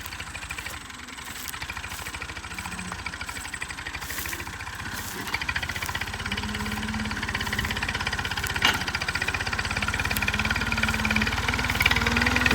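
A tractor engine runs steadily at a farm field, a continuous close rumbling chug that grows slightly louder as the tractor arrives, with no talk over it.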